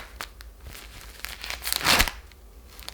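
Crinkly tearing of a nonwoven sanitary pad wrapper being opened by hand, a few soft rustles building to one louder rip near the end, close and alone without talk.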